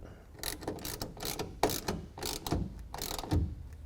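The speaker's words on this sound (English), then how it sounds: "and the ratchet, we're going to tighten down the nut" Ratchet and wrench tightening a nut on a bolt while fitting an Ionic SE roll-up tonneau cover to a 2011 Toyota Tundra: a series of short, clicking ratchet bursts in irregular strokes, close and moderately loud.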